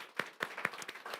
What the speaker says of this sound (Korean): 박수 한번 해주실래요?